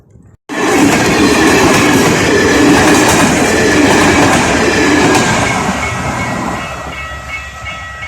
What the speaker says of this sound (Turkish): İskenderun treni geçti